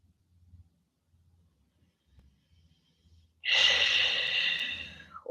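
After a near-silent stretch with faint low rustles, a single long, breathy audible exhale during yin yoga breathing rushes out close and fairly loud, then fades.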